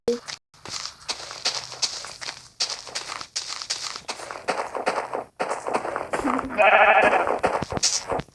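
Minecraft sheep let out a clear, loud bleat near the end, after a stretch of blocky footsteps and game sounds.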